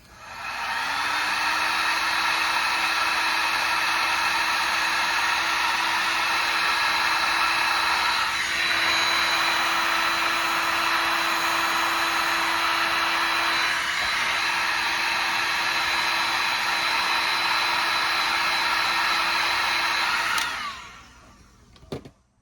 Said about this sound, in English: Quick blast with the heat gun.